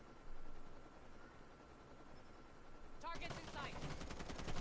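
Gunfire in the mobile shooter Call of Duty Mobile, with low game ambience first and then a sudden burst of rapid automatic shots from about three seconds on, continuing loud to the end.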